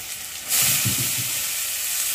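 Onion tipped into a pan of ginger and garlic frying in oil for a village-style stuffed eggplant dish, bursting into a loud broad sizzle after a quieter start and hissing steadily, with a few low clunks near the start.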